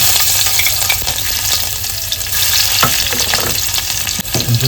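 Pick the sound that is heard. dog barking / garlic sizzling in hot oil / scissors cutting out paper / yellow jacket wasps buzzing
garlic sizzling in hot oil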